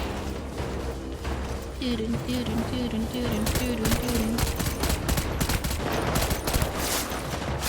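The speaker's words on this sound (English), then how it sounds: "Oh, they're shooting, they're shooting." Enemy gunfire in the video game Death Stranding: a rapid run of shots crackles through a busy game mix, loud and continuous, with a voice talking over parts of it.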